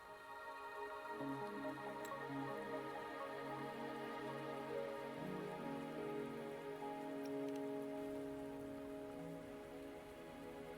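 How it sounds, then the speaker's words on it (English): Steady rain pattering on surfaces in the video game Wuthering Waves, a soft continuous wash with drips, under faint ambient tones and music, no talk. "Are you trapped here by the rain?"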